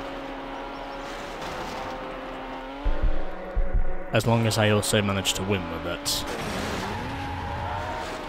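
Game cars in Need for Speed: Hot Pursuit 2 on PS2 race with engine whine, then tires screech and skid in bursts with crunching impacts midway, while a voice talks over the action.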